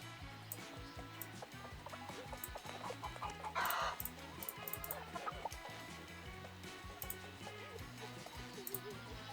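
A chicken in the video game Scary Teacher 3D Stone Age clucks repeatedly at low volume over a looping game soundtrack, with a brief burst of noise midway.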